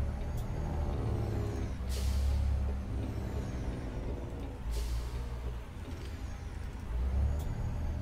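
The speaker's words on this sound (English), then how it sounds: "Love the way this truck sounds." A heavy truck engine in American Truck Simulator rumbles steadily, with periodic sharp hissing bursts like air brakes releasing.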